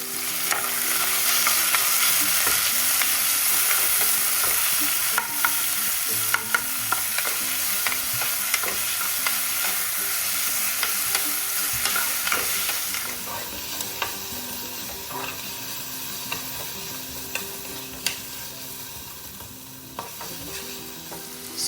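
Onions sizzle in hot oil with whole spices for a mutton curry, a loud, steady crackle punctuated by repeated stirring clatters that grows quieter in the second half, with no speech.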